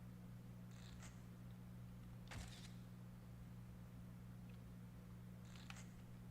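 A cat in the survival horror game Fatal Frame 3 gives a couple of faint high meows over a steady low electrical hum, with one brief louder scrape midway; quiet and distant, no talking.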